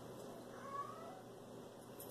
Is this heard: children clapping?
no